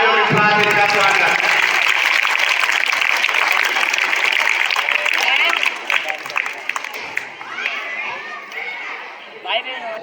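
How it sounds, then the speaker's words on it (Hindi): Loud, sustained applause from a large crowd fills a school annual day function, with children's chatter mixed in, then the clapping thins and fades toward the end. "एक बार बहुत जोरदार तालियों के साथ इसका स्वागत।"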